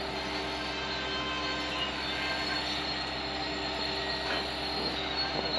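Two BNSF SD70MAC executive locomotives are switching, with a steady diesel rumble and the grind of rail cars moving at moderate distance, loud and continuous, with no voices.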